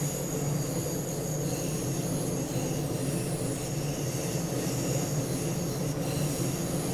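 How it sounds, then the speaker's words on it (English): A train passes in the Train Sim World 2 video game, with a steady, loud rolling rumble and a faint high wheel squeal that holds constant throughout, with no voices. "I'm watching a train, alright?"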